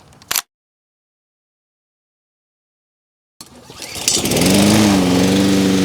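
A gasoline self-propelled lawn mower with a Briggs and Stratton engine, after a short click and a pause, cranks and fires up. It settles into a loud, steady, close running drone with no talk.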